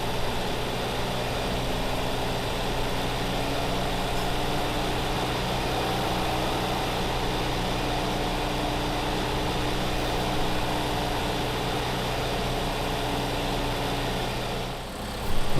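A John Deere 6410 tractor engine in Farming Simulator 2015 drones steadily under a heavy load, a continuous loud hum that barely changes and then rises slightly at the very end.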